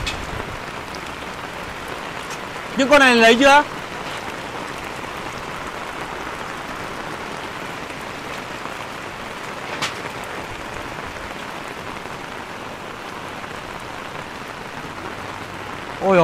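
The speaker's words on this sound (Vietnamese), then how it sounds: "Ôi ôi mưa rồi" Steady, dense rain hissing across the whole stretch at Silver Falls, Sapa, with a brief burst of voices near the start and a faint voice at the end.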